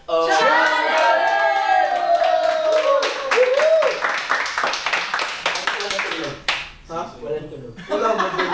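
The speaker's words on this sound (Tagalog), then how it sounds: "Sige na, palakpak ka." Hands clap in a quick, steady run of sharp slaps under loud, continuous talking and laughter, then stop abruptly as the voices carry on.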